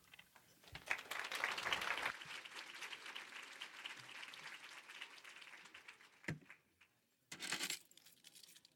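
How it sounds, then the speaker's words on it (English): A school district kickoff audience claps for its superintendent in a burst of applause that fades out, followed by scattered clinks and a short second flurry of claps near the end. "give your superintendent another round of applause"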